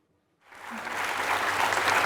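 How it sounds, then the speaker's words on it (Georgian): An audience at a televised book quiz show applauds a contestant. Silence gives way to a sudden burst of clapping that swells and holds, loud and dense, with no talk over it. "აპლოდისმენტები მარიამს და დაუბრუნდით მოთამაშეების სათამაშო ადგილებს"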